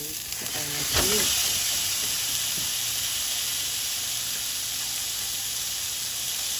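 Ground beef, still frozen, sizzles in a hot pan for tacos, a steady loud hiss that fills the clip after a brief clatter near the start.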